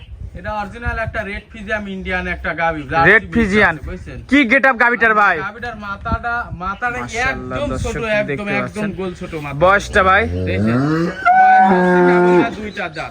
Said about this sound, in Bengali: ভিডিও শেষ পর্যায়ে আমাদের মাঝে একটা গাভি নিয়ে আসছেন মার্শাল্লাহ কি জাতের ভাই